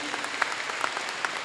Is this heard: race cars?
no